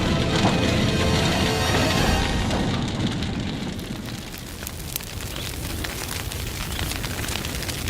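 A bushfire tears through a eucalyptus forest, a loud, continuous roar of flames with dense crackling and splintering wood snapping throughout, heard alone without voices.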